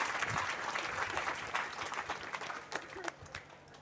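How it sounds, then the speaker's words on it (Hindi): Applause from the crowd at a Hindu religious gathering for a guru's anniversary, a dense, fairly quiet burst of clapping that thins into scattered claps by the end. "यदि समझ में आए तो तालियां"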